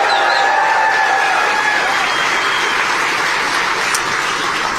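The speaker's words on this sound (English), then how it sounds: "let's give a round of applause for Mike Rogers" A rally crowd in Traverse City, Michigan applauds Mike Rogers with a dense, loud, continuous wash of clapping that holds steady throughout.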